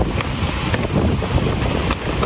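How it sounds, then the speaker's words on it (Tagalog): Strong wind buffets the microphone at a housing subdivision in San Jose del Monte, Philippines, in a steady, loud roar with gusty rumbling throughout, no voices. "lakas ng hangin"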